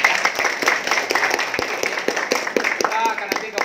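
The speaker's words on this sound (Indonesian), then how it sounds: "Berikan tepuk tangan dong" Audience clapping at an Indonesian reseller training event, a busy burst of many hands with sharp claps standing out, with a voice or cheering mixed in throughout.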